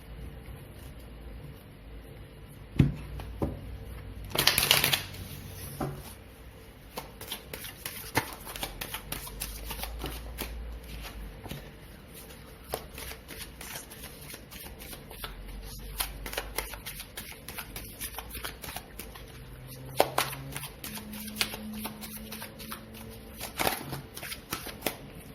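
Tarot cards are shuffled close by during a reading, making soft, repeated riffling and sliding passes with a few sharper snaps, fairly quiet and with no talking.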